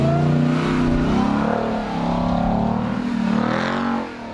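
A 6,500-pound Ram TRX pickup's engine revs steadily on off-road terrain in Utah, a loud, close, continuous drone that rises and falls in pitch, briefly easing before building again and dropping off at the end.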